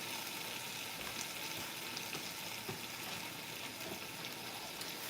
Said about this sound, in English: And then I'm going to put my water in here